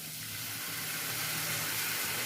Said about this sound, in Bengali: একটু ঘি দিয়ে দিলাম।